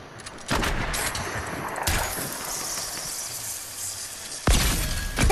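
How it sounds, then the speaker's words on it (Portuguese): Pump shotgun blasts in Fortnite, three sharp loud reports spaced about two seconds apart, each with a bright cracking burst and a lingering tail. "Vou recarregar minha pump e vou atirar nele"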